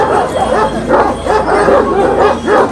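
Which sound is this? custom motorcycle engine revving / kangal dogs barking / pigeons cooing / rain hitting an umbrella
kangal dogs barking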